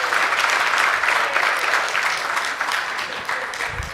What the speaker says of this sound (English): Let's give Prof. Oko a round of applause.